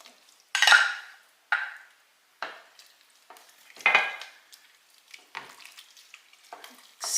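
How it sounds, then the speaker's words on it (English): Spoon stirring heavy whipping cream into a pot of Zuppa Toscana soup, a series of separate scraping, sloshing strokes with brief pauses between them, close and fairly loud, with no voices. "Stir that in."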